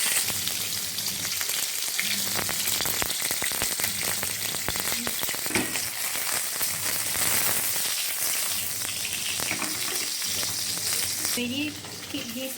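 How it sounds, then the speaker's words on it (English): Prawns frying in oil for Malaysian prawn sambal give a steady, close, loud sizzle that runs unbroken throughout, with faint clinks of stirring now and then. "So let it just fry for about 2 minutes"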